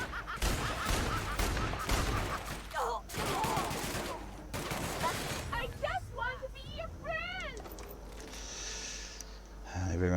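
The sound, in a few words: gunfire from shooting enemies in the video game The Outer Worlds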